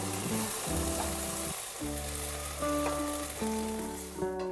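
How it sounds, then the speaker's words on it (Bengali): Okra frying in oil for a prawn and okra bhapa dish, a steady close sizzle running throughout with occasional utensil stirs and a brief dip midway, no voices. "ঢ্যাঁড়সটাও হালকা ভাজা হয়ে গেছে এবার আমি এগুলো তেল থেকে তুলে নেব"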